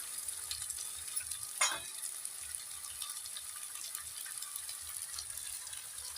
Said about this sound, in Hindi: तो इन सभी मसालों को हम ऐसे ही भून लेंगे।